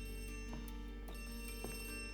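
A telephone rings in the video game Ad Infinitum as a steady tonal ring with faint, repeated clicks behind it. The sound is quiet and heard alone, with no speech.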